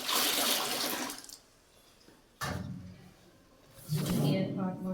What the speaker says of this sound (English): Now I have to discard the water.